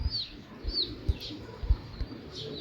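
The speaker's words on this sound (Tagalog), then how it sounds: "Yun yung mga ibon natin" Racing pigeons of a Bari bloodline make soft, scattered coos and chirps around a loft, with faint wing rustles and low thumps between calls.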